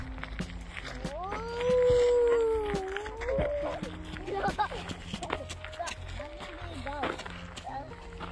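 A dog howls and whines in a forest, drawn-out rising and falling tones near the start, then shorter yelps, with people talking nearby throughout.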